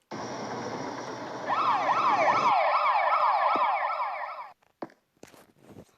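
A police siren wails loud and close, a steady wail that shifts into a fast rising-and-falling yelp for a few seconds, then cuts off abruptly, leaving a few short knocks and scrapes.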